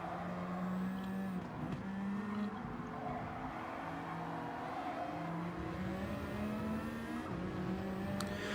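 A continuous racing car engine drones and shifts pitch steadily, revving up and down with no pauses, in the video game Gran Turismo 7.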